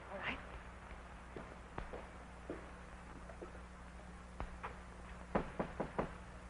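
A sharp, fairly close knocking on a door comes in scattered raps, ending in a quick cluster of four or five blows, set in a 1930s drama scene with a low steady hum beneath.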